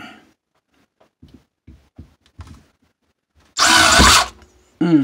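A power drill whirs in one loud, short burst as it drives a Phillips screw into drywall, after a few light clicks and taps, then briefly spins up again.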